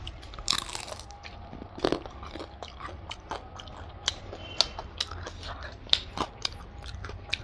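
Crunchy bites and chewing while eating fried rice with spicy mutton curry, close-up crisp crunches repeating irregularly every half second or so, no talk.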